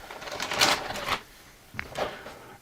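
Rustling and crinkling as a Samsung Gear 360 (2017 edition) camera box is pulled from its plastic shipping bag, in two short bursts of handling noise close to the mic with a pause between.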